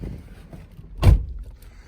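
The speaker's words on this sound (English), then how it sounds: "Solid too when you hear those doors close." A door on a 13-year-old Cadillac Escalade with over 277,000 miles shuts with one solid, heavy thunk over quiet background.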